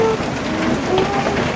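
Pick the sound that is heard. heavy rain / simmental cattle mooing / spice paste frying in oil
heavy rain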